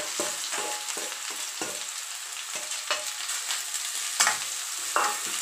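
Sliced onions sizzle in hot oil in a pan for kalivindalu curry, with steady frying hiss broken by regular scraping strokes of a spoon stirring, close and alone with no talk.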